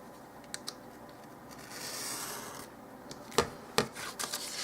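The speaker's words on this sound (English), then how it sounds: "Now, one more cut and we'll have these pages all free." Paper pages of a doll-size book being cut free, a faint scraping rub building and fading, then a few soft, sharp snips or taps near the end, quiet and close.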